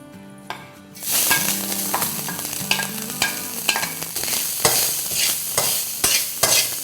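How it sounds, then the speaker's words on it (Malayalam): Grated coconut frying in coconut oil in a hot pan while being stirred, with a steady close sizzle and repeated scraping strokes of the spoon against the pan, no talking. "അപ്പോൾ നമുക്ക് ഈ തേങ്ങ നന്നായിട്ട് ചുമന്ന് നന്നായിട്ട് വറന്ന് വരണം."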